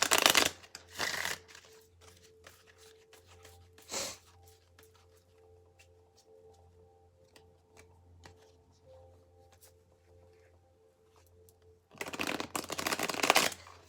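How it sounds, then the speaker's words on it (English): Tarot cards are shuffled on a floor in two loud riffling bursts, one at the start and one at the end, with quieter taps and handling noises in between. "We're going to shuffle 2 times on the floor. You can hear it."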